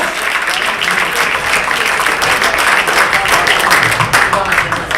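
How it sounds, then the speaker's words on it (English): A comedy club crowd at Carolines gives a dense, loud round of applause for a departing act, sustained throughout, with crowd noise and some voices mixed in. "Give them a round of applause."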